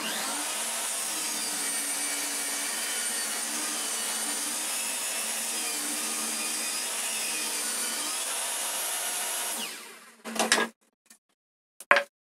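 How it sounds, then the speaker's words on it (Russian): Saw cutting through a glued wooden furniture board, a continuous loud rasping stroke for about ten seconds that then stops, followed by a few brief knocks and handling sounds. "Пилю дальше."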